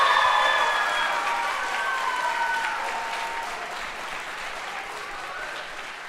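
A high school audience at a battle of the bands gives a band a steady, full round of applause that slowly fades over several seconds, with some crowd voices mixed in.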